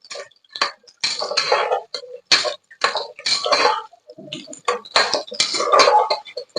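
Onions are sautéed and stirred in a pan, with repeated bursts of scraping and clinking from a spoon against metal, separated by short pauses, close and fairly loud.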